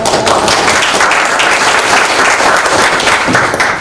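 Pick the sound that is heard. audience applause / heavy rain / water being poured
audience applause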